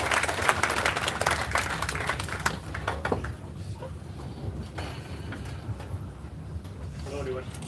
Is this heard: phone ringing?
no